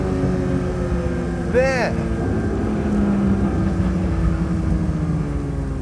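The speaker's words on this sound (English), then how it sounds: "There's transmission noises, the sound on cam, on throttle, off throttle" A 2024 Porsche 911 S/T's engine drones steadily with gear and transmission whine, a brief rising-and-falling tonal sweep near the middle, under constant cabin rumble and a single spoken word.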